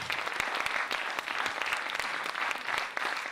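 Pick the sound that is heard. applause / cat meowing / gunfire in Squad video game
applause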